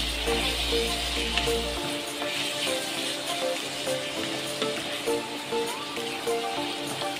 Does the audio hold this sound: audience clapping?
no